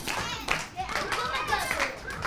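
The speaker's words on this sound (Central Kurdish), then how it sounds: "چەپڵەکانتان هانیان بن" Encouraging applause from an audience at a children's Ramadan Eid game show, a dense run of steady clapping mixed with excited children's voices throughout.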